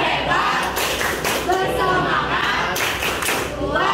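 A group performs rhythmic appreciation clapping, the tepuk apresiasi, in loud, close bursts of hand claps mixed with voices.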